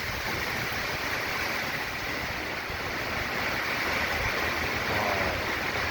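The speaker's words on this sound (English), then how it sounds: "There's a big old gust." Hurricane Delta's winds roar in a broad, continuous rush just after landfall, a steady gust swelling slightly toward the end with no voices over it.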